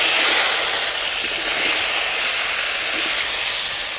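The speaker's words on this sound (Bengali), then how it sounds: "কড়া গরম হয়ে গেছে, কড়ার মধ্যে দিয়ে দিব বেশ কিছুটা সরিষার তেল।" Mustard oil hisses and sizzles in a hot wok, a dense, steady, close frying noise that slowly tapers slightly over a few seconds, with no voices.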